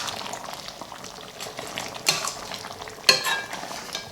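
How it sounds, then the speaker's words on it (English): Curry chicken is stirred in a pot as it cooks: a continuous close bubbling sizzle with scraping stir strokes, including two sharper scrapes near the middle and end. "we'll give it a stir."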